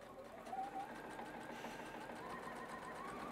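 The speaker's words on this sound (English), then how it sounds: "And I'm going to sew all the way through and all the way through those little triangle tips on the edge there." A sewing machine stitching through quilting fabric gives a quiet, continuous mechanical whir with a soft, rapid needle rhythm that holds steady for a few seconds, with no voices.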